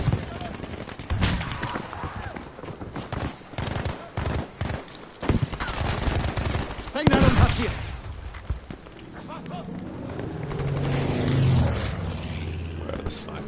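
Rapid gunfire from a Battlefield 5 Grand Operations match, with bursts and single shots cracking over a rumbling battlefield. A propeller aircraft drones in later, and someone talks over the shooting.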